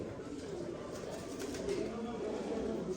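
Domestic pigeons coo softly at a rooftop loft, a steady low murmur of several birds close by, with people talking over them.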